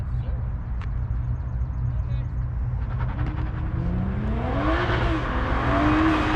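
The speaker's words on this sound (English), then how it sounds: "Yeah, that sounds like it's paddle shifters." Toyota Supra race car accelerating with paddle shifters, the engine note climbing in pitch through successive rising sweeps, heard at a moderate distance over a low steady rumble with people talking nearby.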